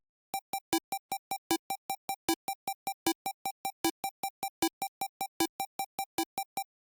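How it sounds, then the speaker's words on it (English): A fast Dino pluck synth melody in a beat, short bright notes ticking along in a steady quick rhythm with a few accented higher notes, no voices. "the last thing I added for the melody was just this really like fast pluck"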